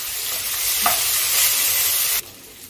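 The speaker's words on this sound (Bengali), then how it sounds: "চালটাকে আমি একটু ভালো করে ভাজা করে নিচ্ছি।" Gobindo bhog rice being stir-fried in a pan for khichuri, a steady close sizzle and scraping of grains that cuts off abruptly near the end.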